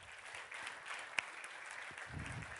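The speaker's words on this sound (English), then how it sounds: "give yourselves a round of applause, a standing ovation for you." An audience at a speaking event gives a round of applause and standing ovation, heard as a faint, distant patter of clapping with one sharp louder clap near the middle.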